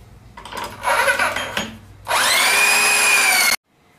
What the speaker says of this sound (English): I've got all the pocket holes drilled in all five partition pieces